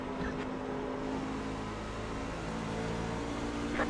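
Racing truck engines from an RRUK Trucks race at Phoenix in a racing video game, a steady loud drone of engines running continuously throughout with no speech.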